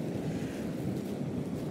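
Wind blowing outdoors on a bright, sunny day near a bridge, a steady broadband rush that holds loud and unbroken throughout, with no voices.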